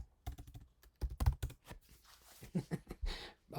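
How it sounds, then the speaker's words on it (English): Keys pressed on a computer keyboard while working in the Vim editor, a quick irregular run of close, crisp clicks and taps in small bursts, with no talking. "Press the escape key. Type U to undo the last."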